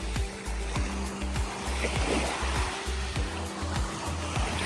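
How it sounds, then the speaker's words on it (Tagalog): Small, calm sea waves wash gently at Torrijos White Beach in Marinduque, a continuous soft surf hiss with a low rumbling bed of engine or wind noise and no talking. "Dito, ganyan lang kaliliit yung mga alon."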